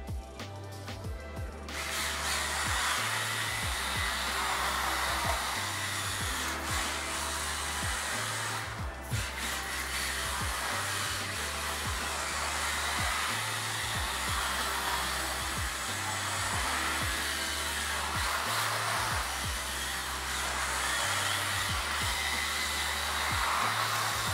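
A small 1/32 scale all-wheel-drive RC drift car runs its electric motor with a continuous high whine that pulses in regular throttle bursts throughout, fairly close and steady.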